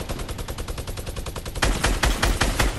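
A minigun in Fortnite unleashes a rapid, continuous stream of gunfire, steady at first and then growing heavier and louder partway through.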